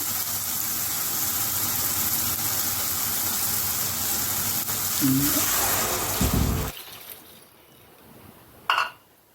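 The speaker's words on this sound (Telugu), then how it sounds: "ఇప్పుడు నీళ్ళు పోస్తున్నాను" Water pours into a hot cooking pan containing mustard seeds and chopped tomato, making a steady, loud rushing hiss that cuts off abruptly, then a quieter pause broken by one brief clatter.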